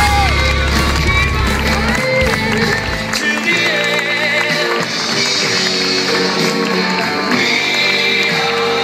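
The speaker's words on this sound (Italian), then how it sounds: "facciamo sentire ancora gli applausi forti per il podio" An outdoor crowd cheers and applauds for the podium at the finish of the Coppa d'oro 2013 race, a dense, loud, steady roar of claps and voices lasting throughout, with music underneath.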